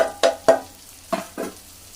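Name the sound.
spices frying in pan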